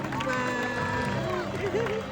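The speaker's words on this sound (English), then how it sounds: "let's give Lolita and Luna one big final round of applause" Audience at a sea lion show applauding the sea lions Lolita and Luna in a big final round, a steady wash of clapping and crowd noise with whistle-like tones over it.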